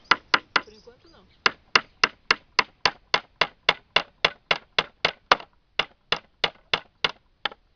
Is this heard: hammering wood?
yes